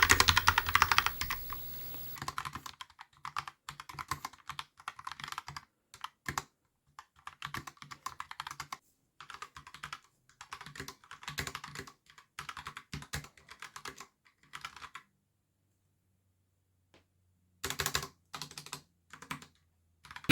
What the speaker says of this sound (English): typing is very easy on this keyboard